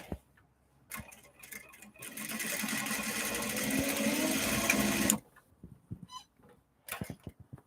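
A sewing machine stitches a big bag: brief starts, then a steady loud whirring run of about three seconds that stops abruptly, with a few clicks and handling sounds around it.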